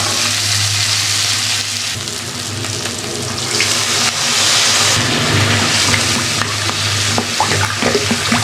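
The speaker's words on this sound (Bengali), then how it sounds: "এবার আমি জল দিয়ে দেবো।" Water poured into a pan of well-cooked spice masala for a Bengali curry makes a rushing, hissing splash that swells and settles into bubbling, close and fairly loud, with no talking.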